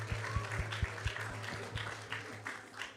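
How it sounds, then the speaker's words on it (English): A devotional discourse audience claps in a round of applause, with distinct individual hand claps near the front over a softer, steady spread of clapping and a low continuous hum. "So let's give them a big round of applause."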